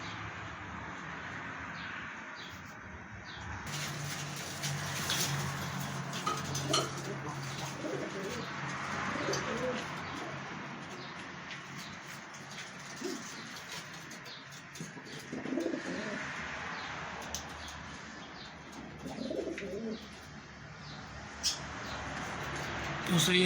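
Pigeons coo repeatedly in a loft, soft rounded calls recurring through a steady background, with a few faint chirps from other birds.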